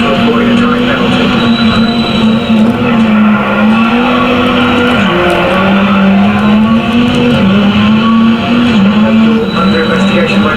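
A rally car in the racing game Dirt Rally roars loudly through a Rally X event, its engine note rising and dipping with gear changes and tyre skids, while a voice talks over it.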